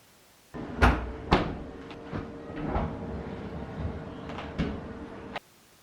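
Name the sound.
opening drawer of NewAir stainless steel outdoor fridge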